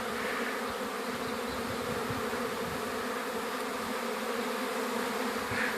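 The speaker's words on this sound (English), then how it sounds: "These bees are extremely gentle right now because they are so full of honey." A honey bee swarm settling produces a dense, continuous buzzing hum of many bees close by, steady throughout with no voices.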